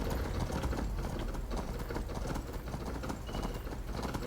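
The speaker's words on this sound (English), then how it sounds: "This horse is so fast." Rapid, steady hoofbeats of a galloping horse in the video game Skyrim, loud and continuous throughout, with a faint mechanical hum underneath.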